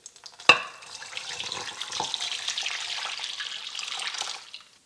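Warm milk pours into a bowl in a steady, soft splashing stream lasting several seconds after a sharp clink at the start, close and alone without talk.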